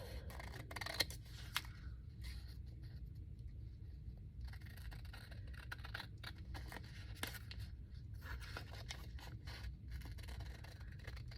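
Scissors snip steadily along the glued edge of thin, old dictionary-page collage paper, a string of quiet close-up cuts and scrapes with no talking.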